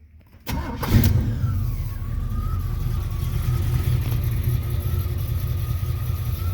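A 1985 Chevy K10 4x4 pickup with aluminum heads cranks briefly, catches and settles into a steady idle, the engine loud and close with a low rumble throughout and no talking.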